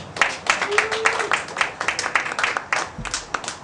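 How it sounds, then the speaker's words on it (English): Stand-up comedy audience applauding a comedian on stage: a brief burst of dense clapping from a crowd, moderately loud and steady for a few seconds, with a short spoken word briefly over it. "Round of applause, please, for Mel Cole."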